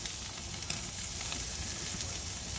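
Food sears on a Char-Grill gas grill, a loud, dense, continuous sizzle that holds steady throughout with no talk over it.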